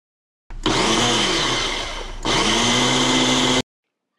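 A Ninja Professional Blender whirs loudly while mixing achiote paste with sour orange juice, running in two bursts with a brief dip and restart before stopping abruptly, alone with no talk.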